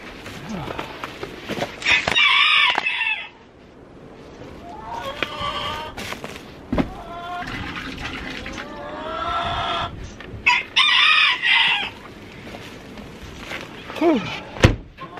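Hens cluck and squawk in bursts close by, with thumps and knocks in between and a short low call near the end.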